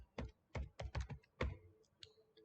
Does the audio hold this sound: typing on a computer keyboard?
yes